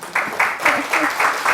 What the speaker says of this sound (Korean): 와, 이것도 박수예요.